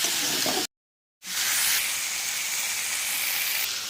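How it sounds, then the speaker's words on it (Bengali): Spice-washing water splashes into sizzling dhaba-style mutton curry, a loud, steady steamy hiss that cuts out abruptly for a moment, then surges back and settles into continuous sizzling. "আমি মশলা ধোয়া জলটা ওর মধ্যে দিয়ে দিলাম"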